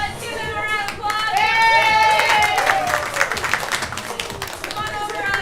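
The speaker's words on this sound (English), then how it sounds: "let's give them a round of applause" An audience at a live comedy improv show breaks into applause, the clapping rising and rolling for several seconds under shouted, excited voices and chatter.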